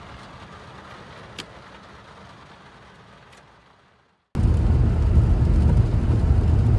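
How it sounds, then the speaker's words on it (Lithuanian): A Seat Malaga running on petrol idles with a low, steady hum that sags and dies away as the engine stalls, then a louder, rougher engine drone bursts back in. "Laiko laisvas apsukas, bet nesigazuoja visai."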